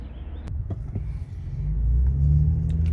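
A Honda Ridgeline pickup engine with an AEM cold air intake rumbles low and close, a few clicks and knocks at first, then the rumble swells and deepens as it picks up.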